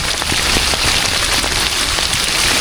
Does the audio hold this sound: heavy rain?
yes